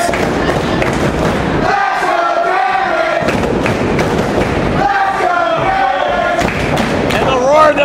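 Wrestling arena crowd cheering and roaring around a match, with heavy thuds from the ring and a commentator talking over the din.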